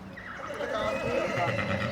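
A filly foal whinnies nearby on a horse farm, a high wavering neigh rising over low rustling background noise.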